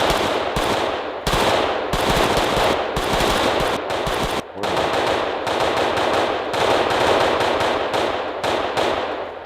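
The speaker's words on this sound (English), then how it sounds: "edit artificial gunfire into an actual video" Artificial gunfire sound effects rattle in rapid automatic bursts, loud and close, separated by brief gaps. Some pauses are short and others longer, and there is no talk.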